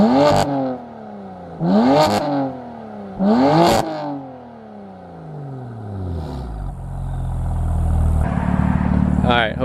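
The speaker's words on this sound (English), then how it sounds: "give you guys a couple revs in efficient and then we'll wrap this up" A BMW F80 M3 engine revs hard three times in quick succession, each burst rising and falling, then settles into a rough, loud idle that builds again.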